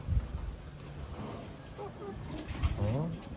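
Pigeons or doves coo softly at close range, a few low throaty calls rising and falling over light wind and background hiss.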